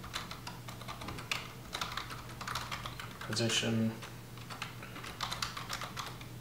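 Fingers tap quietly on a computer keyboard while someone enters database column names, a soft stream of clicks with a brief busier flurry midway, heard under a voice.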